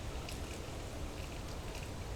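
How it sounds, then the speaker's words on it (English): Steady rain falls outdoors, a dense, even hiss of drops on surfaces with occasional brighter patters, continuous and close with no voices. "That's what makes it so nice when it rains, in my opinion."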